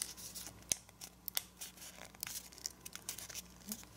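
A sheet of paper being folded and creased into an origami dragon, with soft close crinkles and sharp papery snaps scattered irregularly at low volume, no talking.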